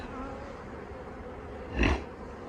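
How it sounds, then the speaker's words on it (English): Young winter honey bees buzz faintly inside an opened hive during a cold-season inspection, with one brief louder hum as a bee passes close. "So I see lots of fairly young winter bees"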